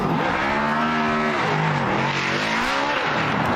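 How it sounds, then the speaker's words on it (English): Loud, continuous engine roar with shifting pitch, rising and falling as two drift cars drive past close by at a Formula Drift event in Utah. "You can actually hear both cars very well"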